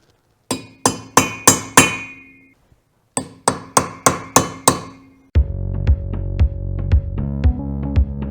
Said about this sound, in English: I'm just going to take a little pointed punch and do a little stamp